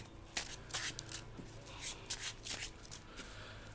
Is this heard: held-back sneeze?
no